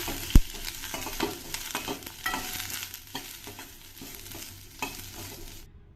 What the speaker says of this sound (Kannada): ಒಂದು ಸ್ಪೂನಷ್ಟು ಎಣ್ಣೆನ ಹಾಕೊಂಡಿದ್ದೀನಿ ಇದನ್ನೆಲ್ಲ ಸ್ವಲ್ಪ ಚೆನ್ನಾಗಿ ಫ್ರೈ ಮಾಡ್ಕೊಳ್ಬೇಕು